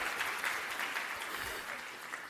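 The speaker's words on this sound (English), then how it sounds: "Let's give him a little clap." An audience at a county bicentennial address gives a short burst of applause, a dense wash of clapping that fades slightly over a couple of seconds.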